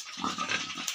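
Duroc pigs on a pig farm, a close run of short grunting snorts over about a second, moderately loud, with no one speaking.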